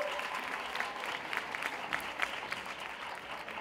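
Audience applauding at a flamenco performance of the Premio Torbellino Flamenco 2017, a steady wash of clapping hands heard somewhat distantly, with occasional sharper claps standing out.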